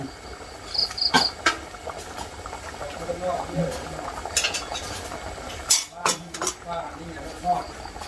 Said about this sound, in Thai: แกงหน่อไม้ฉันเดือดแล้วค่ะ